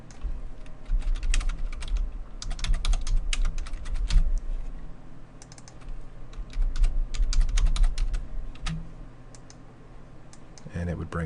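Someone types on a computer keyboard in quick, continuous bursts of close clicking keystrokes with a few short pauses, under a low background hum.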